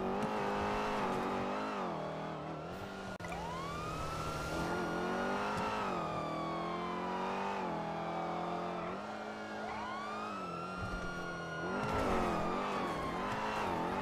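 A police pursuit car in GTA roleplay drives hard, its engine revving up and down through gear changes with rising and falling whine, heard at moderate volume with no talk.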